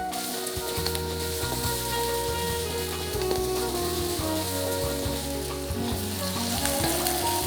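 Onion and garlic sauté in a little oil with a dense, continuous crackling sizzle, steady and close throughout, with occasional stirring; no voices.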